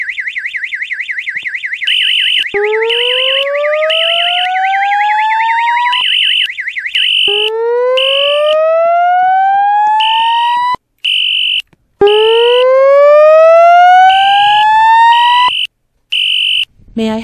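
A fire alarm system in a Roblox video game sounds loud and steady: a continuous warbling electronic tone overlaid with repeated rising sweeps and regular intermittent beeps, running throughout with no talking.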